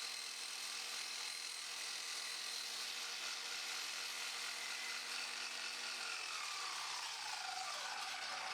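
A power saw cuts a UPVC plastic skirting board at a 45-degree angle, making a steady, quiet whining grind that holds throughout and shifts pitch near the end as the blade finishes the cut.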